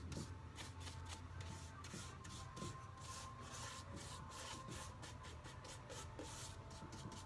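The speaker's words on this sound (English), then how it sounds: "I'm using Annie's small synthetic paintbrush to paint my pure white kind of haphazardly right over this heavy application of gray wax" Small synthetic paintbrush dragging pure white chalk paint over a heavy coat of gray wax, quick rhythmic scratchy brush strokes, close and faint, with no talking.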